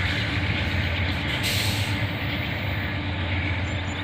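Loaded ore train rolling past with two rear-end DPU locomotives, a Cm44AH rebuild and an ES40DC, only one of them running: a steady, loud, continuous rumble with low engine drone close by and a faint airy hiss.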